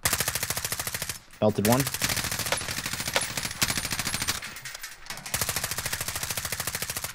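Steady, rapid M4 rifle fire in Warzone rattles close and loud in long sustained bursts with brief pauses, and a voice talks over it.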